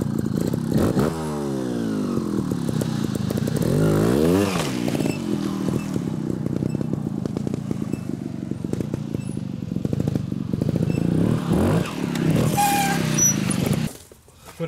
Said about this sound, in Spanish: la moto, sin tener que levantar ni nada, sube perfectamente